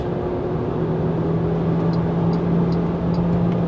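A Morris Garage SUV engine pulls at full throttle, giving a steady, loud, droning roar with a constant low hum and no clear rise in pitch.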